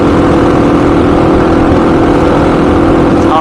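Engine running steadily on a Honda XR motorcycle fitted with a Keihin FCR39 pumper carburetor, a loud, continuous droning note close by that holds constant with no talk.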